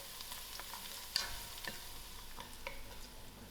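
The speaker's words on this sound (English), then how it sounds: "to my onions I'm going to put in my bay leaf and my cinnamon stick and allow this to fry for a few seconds" Bay leaf and cinnamon stick frying with onions for a lamb curry, a soft steady sizzle with a few faint ticks and one sharp tap, quiet and close-up.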